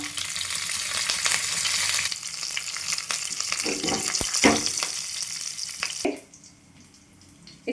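Curry leaves hitting hot oil in a kadhai, a loud, dense crackling sizzle held for several seconds with a few stirring knocks, then dropping to a quieter background hiss near the end.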